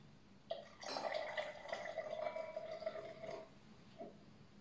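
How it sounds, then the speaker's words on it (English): Lager beer poured into a cocktail glass, a short foamy gurgling pour lasting a few seconds, close and quiet, ending with a faint drip. "we're gonna top it up with a lager or any beer you have on hand"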